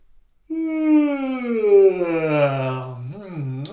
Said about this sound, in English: So we'll start with some yawning, shall we?